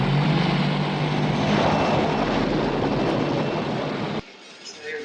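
A helicopter flies west of Bismarck Airport, its engine and rotor roar loud and steady before cutting off abruptly near the end, leaving quieter background.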